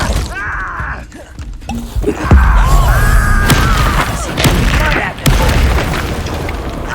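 Confringo fire-blast spell bursting in Hogwarts Legacy's dark forest, a heavy boom followed by crashing and shattering debris, with sharp impacts and brief voices mixed in.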